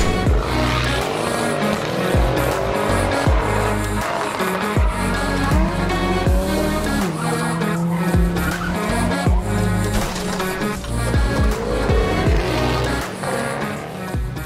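Diecast Hot Wheels toy cars racing down a custom track, a busy rolling rattle with repeated clacks and wheel whirs, loud and close, with no voices.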